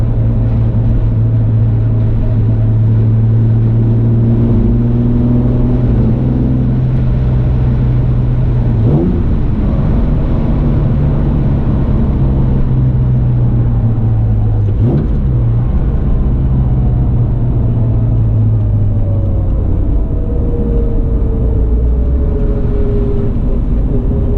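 A Jaguar E-Type's engine accelerates from the driver's seat with a loud, continuous deep rumble. Its pitch rises and falls smoothly as the revs climb through the gears, with no talking.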